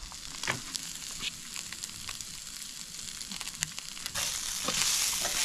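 Striped bass frying in a pan, a steady soft sizzle with occasional crackles and light scrapes of a utensil, growing a bit louder toward the end, with no talking.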